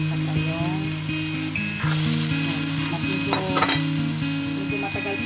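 Taro chunks going into a pan of mixed vegetables and being stir-fried, with a steady loud sizzle and scraping stirs throughout and a few brief clatters of utensil against the pan.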